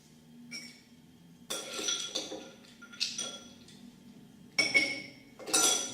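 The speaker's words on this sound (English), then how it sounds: "You can add a couple ice cubes." Ice cubes dropped into a glass of wine for a summer cocktail give a series of bright glassy clinks, about six separate hits spread irregularly, close and fairly clear, with no talking.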